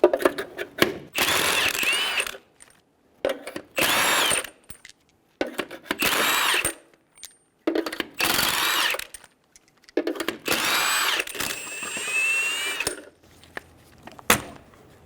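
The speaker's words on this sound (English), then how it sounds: "Using a 21mm socket, remove the 6 lug nuts." Repeated bursts of a power tool whirring as a 21mm socket removes lug nuts from a Toyota Tacoma wheel, each a couple of seconds long with short gaps, close and loud, with metallic clinks between.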